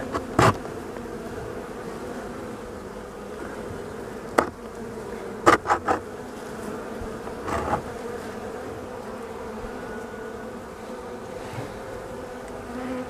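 Honeybees buzzing in an open hive during the first inspection of a dry, clean hive: a dense, steady drone fills the whole stretch, broken by a few sharp clicks and knocks from handling the hive.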